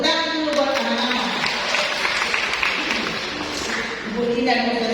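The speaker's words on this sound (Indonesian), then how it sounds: "Tepuk tangan dulu buat anak-anak." Congregation applauding for the children at a Catholic parish gathering, with a moderate wash of clapping under a speaking voice, sustained for several seconds.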